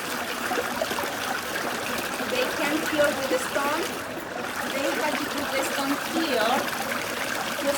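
Water runs and trickles into an old laundry basin in Arequipa, Peru, a steady close splashing flow with faint voices in the background.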